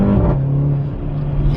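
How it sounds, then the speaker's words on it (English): A turbocharged Mercedes GLA 45 AMG accelerating, a loud steady engine rumble with a rising turbo whine on top, heard from inside or close by. "you can hear some turbo noise on the acceleration there"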